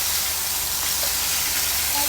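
Steak fries in hot oil at a lechon shop, a loud, close, unbroken hiss of sizzling fat.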